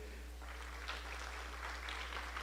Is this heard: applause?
yes